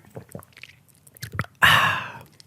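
A person gulps a drink right against a podcast microphone, a few small wet mouth clicks followed by a loud, close swallow sound, with no talking.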